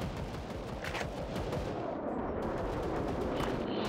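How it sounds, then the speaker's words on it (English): Soviet guns in a video game fire in a dense, continuous barrage of booms and blasts, loud and sustained throughout with no voices. "Listen, roar of the Soviet guns."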